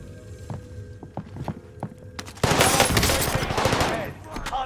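Light machine gun fired in the video game 24K Fortunes Keep: a few soft footsteps first, then a loud, sustained burst of rapid gunfire that fills the rest of the moment before easing slightly at the end.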